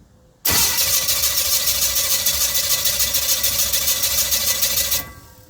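A V-drive power boat engine cranks and catches after a brief silence, then runs loud and steady close by with a constant droning hum, cutting off near the end.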